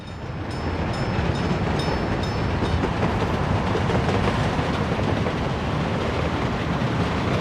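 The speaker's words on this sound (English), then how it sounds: "we ought to be seeing the next train approaching too" A train in the Soviet Republic video game approaches with a steady, loud rumble and rhythmic clatter of wheels on rails that builds in the first second and then holds constant.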